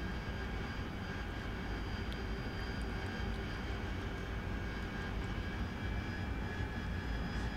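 A steady, unbroken jet engine drone from an AV-8B Harrier flying behind a KC-130 tanker for air-to-air refueling over the Syria map in DCS World, loud and even with no talking over it.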